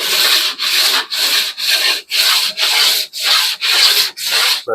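Body filler on a CJ-5 Jeep body is sanded by hand in a steady rhythm of about nine close, loud strokes, each a gritty rasp separated by brief pauses, with no talking.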